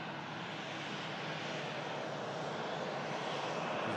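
An Airbus A330 jet starts its takeoff roll at Manchester Airport, heard as a steady, broadband engine roar that stays even and fairly distant throughout.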